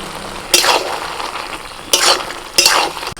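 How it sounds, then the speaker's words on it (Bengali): Dhaka flower greens frying in a pan being stirred, giving three loud close bursts of sizzling and scraping over a steady background hiss, with no talk. "ঢাকা ফুলের শাকটা একটু নাড়াচাড়া করে দিচ্ছি"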